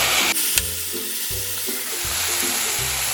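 Tomatoes are stirred into onions frying in oil for a paneer matar masala, steady bright sizzling throughout with a low rhythmic thudding of stirring underneath, alone and close.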